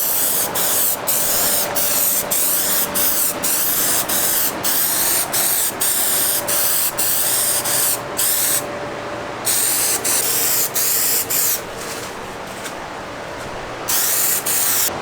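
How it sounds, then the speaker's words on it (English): Plastic dip sprayed from an aerosol can onto car bumper trim in a long series of short hissing bursts with brief gaps between them, close and loud, no voices. "I'm going to go ahead and start with the plastic dip first."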